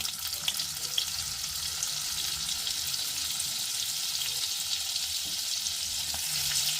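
A spoonful of butter melts into two spoons of hot oil in a pan, producing a constant close hiss and crackle of sizzling fat that stays even and steady, with no voices.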